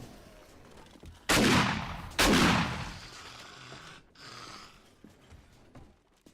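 Two loud, close bursts of video game gunfire tear through a quiet scene, each followed by a decaying rumble, then a fainter rattle of shots trails off.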